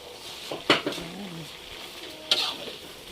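A ladle stirs a pot of jackfruit cooked in coconut milk with shrimp and sardines, making two distinct metallic clinks against the pot over a quiet simmering background.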